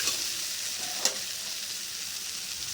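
Whole garam masala spices sizzling lightly in a hot pan make a continuous soft fry, with one brief sharp stirring tap near the middle.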